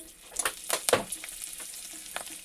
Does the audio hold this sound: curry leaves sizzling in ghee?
yes